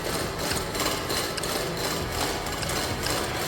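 Drilling through rock in the video game Drill Core: a continuous gritty grinding rumble with faint rhythmic pulses, steady and fairly loud throughout.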